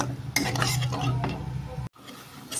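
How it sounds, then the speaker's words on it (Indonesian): Stirring chicken pieces in a pan with seasoning, a utensil scraping and clinking against the metal with a faint sizzle, steady and close for almost two seconds before a sudden brief cut-off. "ini sering kita bolak-balik ya, kita aduk-aduk"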